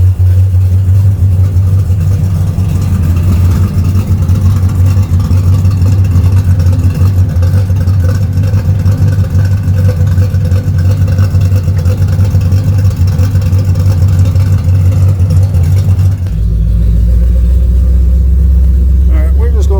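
A Camaro's engine rumbles steadily as the car drives, a loud, continuous low drone that shifts pitch near the end as the automatic transmission changes gear.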